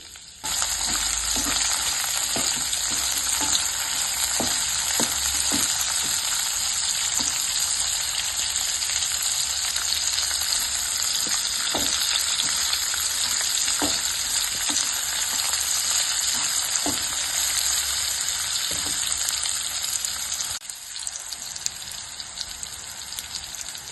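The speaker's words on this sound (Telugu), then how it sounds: "ఉల్లిపాయలు, పచ్చిమిర్చి, అలాగే వెల్లుల్లి ఇవి కూడా వేసుకొని లైట్గా వేయించుకోవాలి." Onions, green chillies and garlic fry in a pan with a steady, loud sizzle throughout, broken by scattered clicks and scrapes of stirring, with a brief dip near the end.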